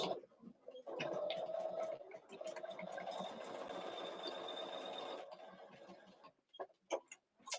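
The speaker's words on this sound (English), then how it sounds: "So I'm gonna just sew this closed real quick." A sewing machine stitching a pin cushion closed with a quarter-inch seam, running in one steady whirring stretch of about four seconds, then stopping, followed by scattered clicks and handling noises.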